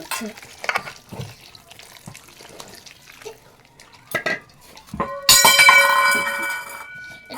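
Rice and lentil batter is mixed by hand in a bowl, with soft intermittent stirring and squelching. Warm water then pours in steadily and louder near the end.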